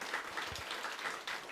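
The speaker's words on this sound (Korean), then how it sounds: "우리 격려의 박수를" A church congregation applauding during a Sunday service, a soft, even patter of many hands heard from a distance, sustained throughout with no speech.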